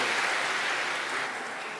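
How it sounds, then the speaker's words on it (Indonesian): A church congregation applauds during a Sunday Mass homily, a dense, even wash of many hands clapping together that holds steady for under two seconds, with no voices over it. "kita beri tepuk tangan ya"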